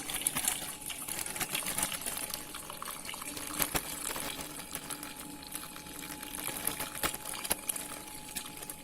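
Milk pours through a cloth filter while making rasmalai, giving a continuous, noisy splashing trickle with scattered sharp ticks and clicks throughout.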